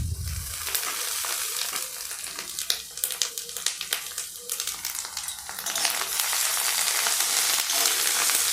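Garlic paste and onions frying in a pan for an egg curry, a steady hiss and crackle that swells louder over the last few seconds, with faint stirring taps partway through and no voices.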